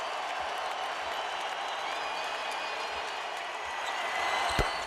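A basketball arena crowd at a 2006 Lakers–Raptors game roars and applauds for Kobe Bryant's career high, a steady, dense wash of cheering that swells slightly near the end.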